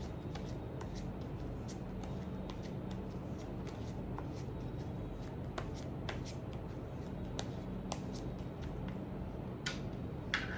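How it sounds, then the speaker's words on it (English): Tarot cards are shuffled by hand in a quiet room, giving soft, continuous riffling with scattered light snaps and ticks. The sound is faint and steady throughout, with no one speaking. "Think about your person, think about your situation till I shuffle the cards for you."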